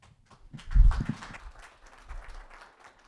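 Brief burst of audience clapping from a seated crowd at a dairy herd talk, swelling quickly and fading within about a second, followed by quieter room noise.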